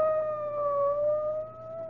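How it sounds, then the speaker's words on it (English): A police car siren wails in a 1974 radio mystery drama, a steady, slightly wavering tone held alone and fairly close, fading a little near the end. "It's a police car."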